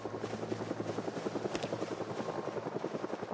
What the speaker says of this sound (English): am I hearing the helicopter make a third visit?